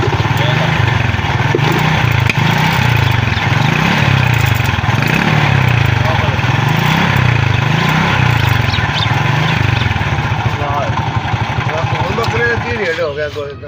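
Honda CD70 motorcycle engine with timing chain noise revs in a steady, repeating surge-and-fall rhythm, loud and close, with someone talking over it.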